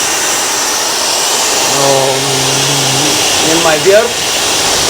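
A Dyson Supersonic hair dryer blowing air in a steady, loud rushing whoosh that runs throughout, while a person speaks briefly over it.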